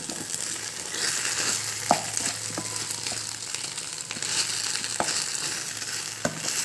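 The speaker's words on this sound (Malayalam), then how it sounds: "ഇനി നല്ല മിക്സ് ചെയ്യാം." A pan of sandwich masala with sauce is stirred over a steady background sizzle, with a few sharp spoon scrapes and clicks against the pan standing out.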